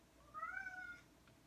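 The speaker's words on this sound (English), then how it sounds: "That's my cat meowing in the background." A pet cat gives one short, rising-and-falling meow, fairly faint and slightly distant, over a quiet background hiss with no talking.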